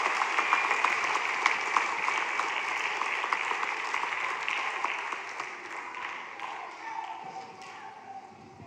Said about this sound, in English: Now we can applaud for all of our third graders.